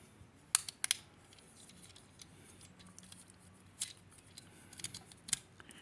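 A cheap plastic Bumblebee transforming toy has its parts shifted into place, giving sparse, sharp plastic clicks and snaps, a few in quick clusters, over a quiet background.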